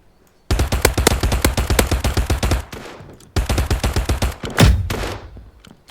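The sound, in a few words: gunfire nearby in Mini Royale video game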